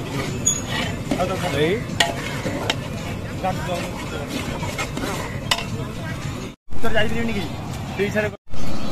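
Tomatoes go into a pan of frying prawn masala gravy with onion and garlic paste, giving steady close sizzling and clattering stirring with a few sharp utensil knocks, a voice talking over it, then brief silences.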